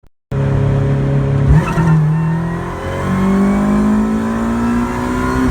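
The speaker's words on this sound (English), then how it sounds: "I'll put a little clip here that I did just rolling it in second gear at 40 miles an hour" A supercharged Honda del Sol pulls hard in second gear from about 40 mph, its engine note climbing steadily and loudly up to a shift into third, close and continuous with no talking.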